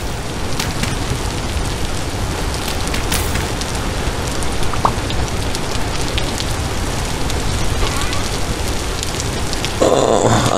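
Steady rain in the video game Vintage Story, a loud dense hiss of falling drops with scattered patters, continuous throughout with no speech.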